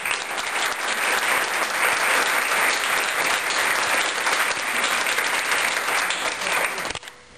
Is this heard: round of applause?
yes